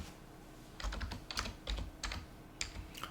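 Quiet, close computer keyboard typing in a short burst of uneven keystrokes with small pauses, under faint room hiss.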